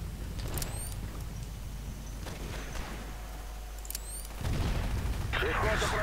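Explosive crates blowing up under gunfire in Battlefield 2142 on the Tunis map: a few sharp shots, then a loud sustained blast rumbling near the end, with a voice talking over the game.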